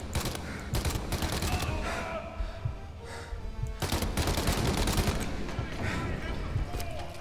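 Sustained gunfire in the Mafia game, with dense machine-gun rattle and overlapping shots filling the scene, punctuated by sharper bursts, under faint voices.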